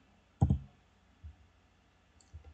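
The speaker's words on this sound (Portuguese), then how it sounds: "Então vou digitar o tamanho lá que eu quero" Keys click on a computer keyboard while a line length is entered in AutoCAD, with one quick burst of close taps followed by two faint single strokes in a quiet room.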